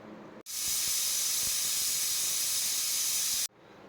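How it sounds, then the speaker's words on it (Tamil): A pressure cooker lid vents steam in a loud, steady hiss that bursts in after a short pause, holds for about three seconds while rice and chicken cook inside, then cuts off sharply. "இந்த டைமில் குக்கர் மூடி போட்டு ஒரு 3 விசில் விட்டு எடுத்துக்கலாம்."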